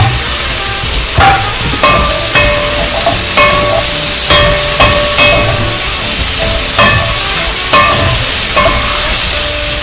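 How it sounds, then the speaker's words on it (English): Meats sautéing in a pan for a Hokkien kiampong rice casserole, a steady loud sizzle with repeated scraping and clinking of a utensil against the pan, no voices. "To this mixture, add your meats and saute further."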